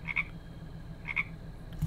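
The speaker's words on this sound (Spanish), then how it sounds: "cuando se hace las 6 de la mañana, la rana, el despertador rana suena" A frog alarm clock in the game Boogeyman 2 goes off at 6 AM, giving two short, faint croaks about a second apart against a quiet background.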